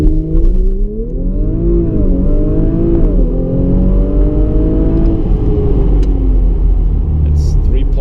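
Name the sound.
Audi RS5 accelerating from standstill on straight road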